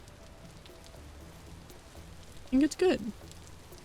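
Steady rain falling in the video game Vintage Story, a soft, even hiss of drops on surfaces running throughout at low level, with a person briefly speaking over it.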